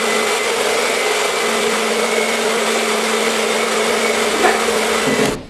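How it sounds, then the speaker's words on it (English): A blow dryer on its low setting runs as a steady close whir while heating a Chalk Couture transfer, holding level with no talk before switching off at the very end. "I've got a blow dryer here. I'm just going to go ahead and heat this up for a minute on a low setting."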